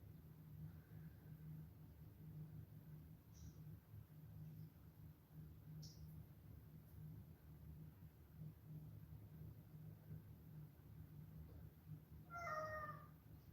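An indoor cat gives a few faint, brief meows spread over a low steady hum, with a clearer, closer meow near the end, and no talking.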